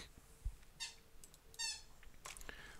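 A pet toy squeaks in three short, high bursts spaced about a second apart. Each burst is quiet, and soft room noise fills the gaps between them.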